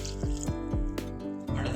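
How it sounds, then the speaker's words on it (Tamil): Water pours and drips into a cooking pan of okra pachadi in a few short bursts, close and fairly loud, ending with a steadier splashing stream. "ஒரு டம்ளர் விட்டுருக்கேன் தண்ணி"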